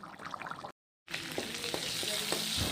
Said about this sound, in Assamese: এতিয়া মই ইয়াতে নহৰু আৰু তেজপাতা দি এনেকৈ ভাজি আছোঁ।